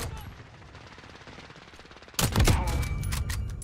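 Gunfire in the video game Call of Duty: Warzone: quiet game ambience, then a sudden loud rattling burst of rapid automatic shots continuing to the end.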